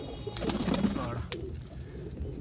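Pigeons coo in soft, low throaty bursts close by, with a few rustles and faint chirps among them, and no talking.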